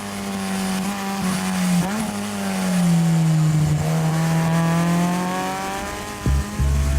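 A supercharged 2014 Subaru BRZ race car with a Jackson Racing supercharger and Tomei headers drives on a track, its engine droning loud and close with the pitch rising and falling as it accelerates and lifts, and no one talking.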